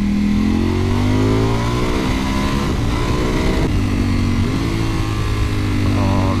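A Ducati Panigale V4S sport motorcycle engine, loud and close, with a sustained rising rev and shifting pitch through the whole stretch on the road.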